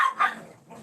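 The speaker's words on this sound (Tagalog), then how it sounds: "Ingay ng mga aso." Dogs bark a few quick times somewhere nearby, short sharp yaps that fade into the background.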